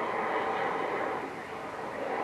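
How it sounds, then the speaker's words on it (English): An airplane passes overhead, its broad, steady engine roar filling the sky at a constant, fairly loud level throughout, with no talking. "I'd like to be on that plane."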